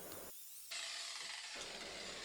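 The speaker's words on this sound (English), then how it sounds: "So for this part of the process, I've switched over to a flap wheel." Flap wheel sanding disc on an angle grinder resurfacing a steel anvil face, a steady bright hissing whine that dips briefly during light passes.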